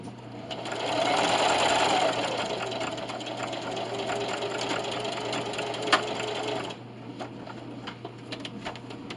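A sewing machine stitches a self-binding receiving blanket with a fast, steady mechanical whir for about seven seconds, then stops, leaving quieter clicks and small handling sounds.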